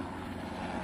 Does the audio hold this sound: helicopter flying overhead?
yes